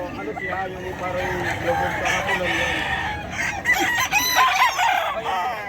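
Roosters and chickens at the Bocaue market in Bulacan crow and cluck repeatedly amid busy crowd chatter, with several birds calling close by over people talking.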